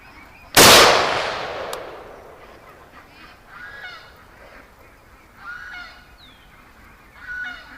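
Rifle shots fired outdoors near a flock of ducks and geese: one loud, sharp crack with a long ringing tail, then a much fainter second report, followed by scattered honking from the birds.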